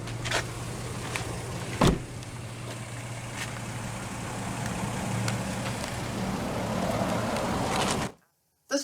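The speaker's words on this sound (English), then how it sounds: "The driver's window is automatic down." A 2012 Nissan Xterra S driver's power window motor runs steadily for about eight seconds, a low constant whir with a faint hum beneath, then stops abruptly, with a brief click near the start and no talking.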